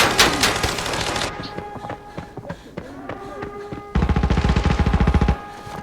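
Rapid bursts of video game gunfire from Arena Breakout crackle in quick rhythmic volleys, loud and close, with scattered single shots between them.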